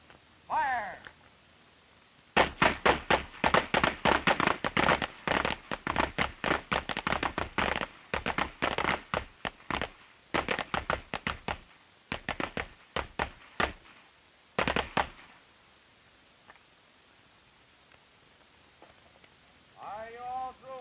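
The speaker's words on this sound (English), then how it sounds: "Ready on the firing line. Fire!" Police pistols fire on the Oakland police firing range in a rapid, irregular volley of many sharp shots, some overlapping, while a voice speaks briefly before and after the firing.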